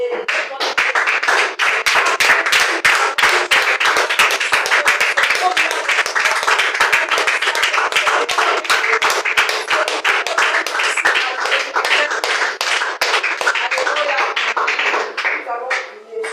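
A church congregation claps steadily in acclamation for Jesus Christ, loud, rhythmic and sustained without a break for the whole stretch.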